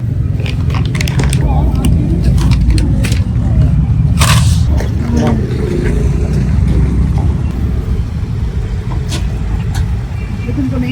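A car creeps forward, its low engine rumble steady underneath close voices that talk through most of the stretch, with a few clicks and knocks.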